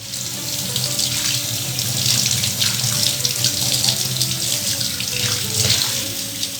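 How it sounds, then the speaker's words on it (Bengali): Tap water gushes steadily into a sink while a whole scaled hilsa fish is rinsed, a loud, close, continuous splash with slight shifts as the fish moves under the stream. "এবার আমি গোটায় ধুয়ে নেব"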